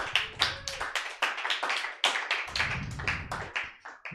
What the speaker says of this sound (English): A lot of applause for a satanic sacrifice